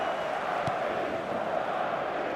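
Stadium crowd at a football match in eFootball 2027: a dense, steady roar of many voices fills the whole stretch at even loudness, with one brief sharp accent early on.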